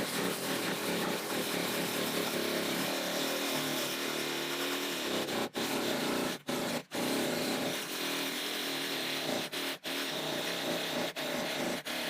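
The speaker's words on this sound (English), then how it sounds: "I kind of just teeter-totter the saw around the edge there to get a little space to turn it" A battery-powered saw cuts through a barrel for a DIY potato barrel, working tight around metal fittings and washers, a loud continuous buzzing whine broken by several brief stops as the blade is repositioned.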